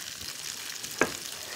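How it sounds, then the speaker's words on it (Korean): Vegetables, including onion, sizzle steadily as they fry in a pan, with a constant crackling hiss close by and a single sharp clink partway through. "자, 이제 뭐 지글지글 소리가 나죠?"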